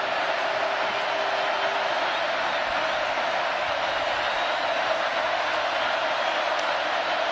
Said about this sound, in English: And the crowd roaring each time